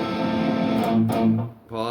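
Guitar riff from a song, played with effects and distortion: a sustained chord, then short palm-muted notes and a brief pause before the next chord, close and fairly loud, with no talking.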